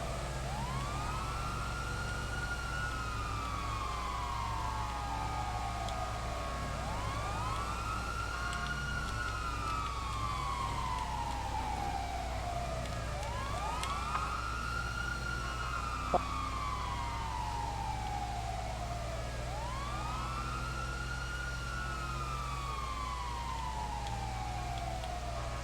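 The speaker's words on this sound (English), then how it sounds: "Make sure that you're bleeping your sirens through every intersection." Police car sirens in the FiveM video game wail in a steady repeating rise-and-fall cycle, about four long sweeps over a constant low engine drone, loud and unbroken with no talk.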